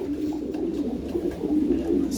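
Pigeons cooing inside a loft, a steady low murmur of soft coos from several birds close by, continuous with no talk over it.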